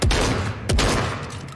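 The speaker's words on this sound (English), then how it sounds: "Wait, what is this auto shotgun?" Automatic shotgun fire in Fortnite: two loud, sharp blasts about half a second apart, each with a booming low thump and a lingering rumble between them.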